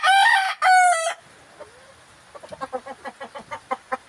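A white Kelso gamecock rooster crows loudly and close in two strong bursts, followed by a string of softer, rhythmic clucks from nearby fowl.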